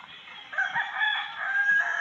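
A rooster crows one drawn-out cock-a-doodle-doo lasting over a second, fairly close and clear over a quiet background, with no talking.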